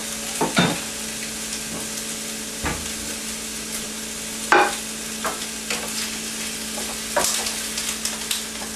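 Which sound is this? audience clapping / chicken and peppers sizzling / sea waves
chicken and peppers sizzling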